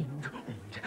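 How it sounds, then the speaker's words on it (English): Heavy, rhythmic breathing from a phone caller comes through a telephone line on a 1989 BBC1 Comic Relief broadcast, two or three breaths in under a second, moderately loud and alone. "It's a heavy breather"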